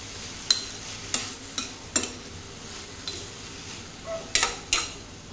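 Chopped capsicum, tomato and other vegetables for a veg pizza are mixed in a bowl, giving a series of soft scraping and clinking strokes at an irregular pace, quiet and close, with no talking.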